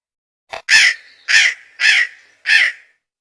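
A crow caws four times in steady succession after a short lead-in call, loud, harsh and close, with no other sound around it.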